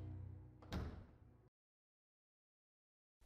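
A door opening in RuneScape 3, a short whooshing creak and thud heard over a low game background, then a cut to silence.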